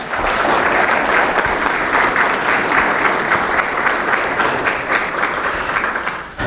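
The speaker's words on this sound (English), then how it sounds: "Let's give them a round of applause." A room full of people at an Episcopal church's annual parish meeting breaks into sustained, dense applause, loud and even for several seconds before it tapers at the end.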